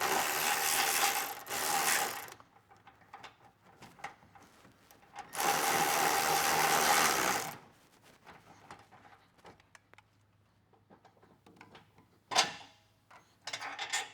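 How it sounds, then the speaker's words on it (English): Ratchet fitted with a 19 mm socket works bracket bolts loose in a Bronco wheel well, giving two long bursts of rapid clicking near 0–2 s and 5–7.5 s, with quieter handling sounds between and a sharp knock near the end. "let's grab our 19 mil socket and loosen those bracket bolts"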